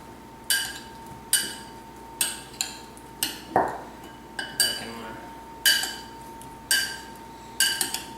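Chopped eggplant and garden vegetables for ratatouille being tossed in a bowl, giving a steady run of sharp clinks and taps about once a second, up close, over a faint steady hum.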